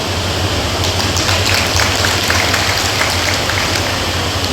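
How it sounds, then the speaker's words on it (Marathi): Steady rain pours down at an outdoor public gathering, a dense, loud hiss with scattered patters of drops on surfaces, continuous from start to finish. "जसं जसं बोलावे तसं तसं पाऊस वाढायला"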